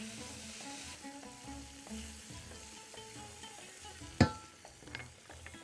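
Garlic and then onion sizzle and fry gently in oil in a pan for fajitas, with a soft continuous crackle and a few utensil clinks, one sharper knock near the end.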